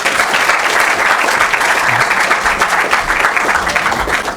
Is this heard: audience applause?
yes